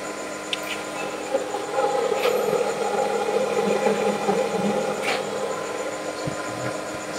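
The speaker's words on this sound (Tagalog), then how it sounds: "Kaya tingnan nyo na maugong yung makina." A solar inverter that is not a true pure sine wave unit gives off a steady electrical hum with faint tonal whine, continuous and close, with a few small clicks and no talk.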